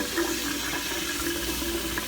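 Water runs steadily from a bathroom tap or sink as a mouth is rinsed after copper tongue scraping, a continuous close splashing wash with no talk over it.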